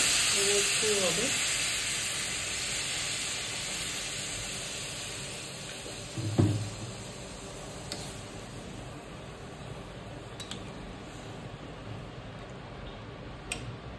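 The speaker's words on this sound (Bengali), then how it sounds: "এরপর আমি গরম জল করে রেখেছি, সেই গরম জল দিয়ে দিচ্ছি।" Hot water poured onto fried chicken in a pan for a homestyle chicken stew gives a loud, steady hissing sizzle that slowly dies down over several seconds, with a single soft clatter about midway.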